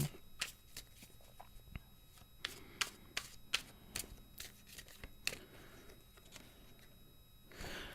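Tarot cards are shuffled by hand in quick, crisp riffles and snaps, close up, with short pauses between bursts.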